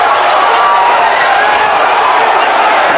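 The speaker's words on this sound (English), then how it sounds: "That gets the crowd going here at Pechanga." Loud, steady roar of a boxing arena crowd cheering at Pechanga during a bout between Steve Forbes and David Santos, a dense wash of voices and clapping throughout.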